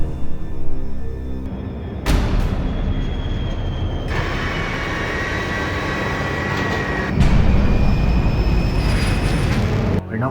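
Bomber aircraft engines in a war video game make a loud, continuous droning roar that swells and shifts in layers across ten seconds, with no voices over it.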